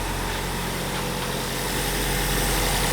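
A Nissan SR20DET engine idles steadily just after its fuel injectors were replaced, a loud, close, even rumble throughout with no voices.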